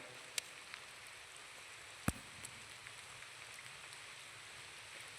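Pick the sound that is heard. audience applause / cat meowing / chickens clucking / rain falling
rain falling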